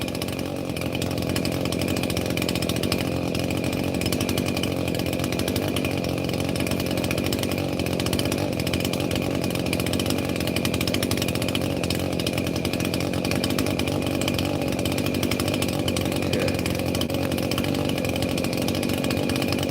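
Ryobi chainsaw running at a steady drone, loud and unbroken for about twenty seconds at a cemetery restoration site, with no talk.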